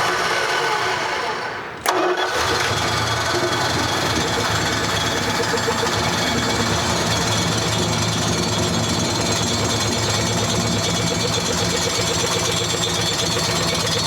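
A 1986 Dodge Ram barn find, sitting for 15 years, cranks and catches, then its engine runs loud and close with a steady rough, rattling idle that carries on for many seconds.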